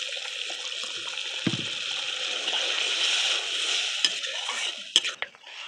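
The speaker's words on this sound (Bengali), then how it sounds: "এবার জল দিয়ে দেবো।" Water pours into a cooking pan of fried mustard paste for fish curry, a steady sloshing hiss running for several seconds before a few clinks and splashes near the end.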